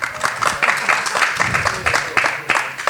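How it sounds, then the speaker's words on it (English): Scattered audience clapping at a public forum on education reform, uneven bursts of claps rising and falling over a few seconds. "Good clap."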